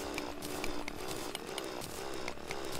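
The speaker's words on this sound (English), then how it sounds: "This is so much faster than my old drill." A drill running in the video game Terraria: a continuous buzzing, saw-like whine with rhythmic grinding pulses, steady and close, with no talking.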